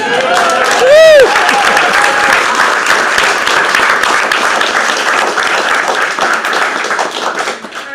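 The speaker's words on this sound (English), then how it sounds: "can we give him another round of applause?" A crowd of audience members claps steadily throughout at an evening community event, dense and sustained applause with a brief whistle-like tone near the start, tapering slightly at the end.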